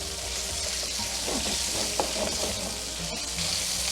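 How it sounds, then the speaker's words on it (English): Smoked sausage browns in a hot pan for Moroccan couscous, giving a steady, close frying sizzle with a few soft stirring clicks and no voices. "get the sausage going here. We want to brown the sausage, right? Brown the edges."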